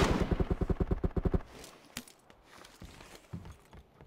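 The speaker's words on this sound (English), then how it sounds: "So someone shot me." Automatic gunfire in PUBG on the Miramar map: a rapid burst of about a dozen evenly spaced shots close by, then quieter scattered shots and thuds farther off.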